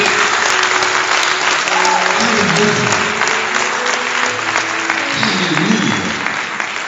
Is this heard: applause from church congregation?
yes